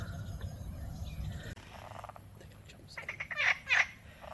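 Frogs calling to each other in Kefalonia, a few faint croaks and trills followed by louder rapid pulsed calls near the end, set against low background rumble.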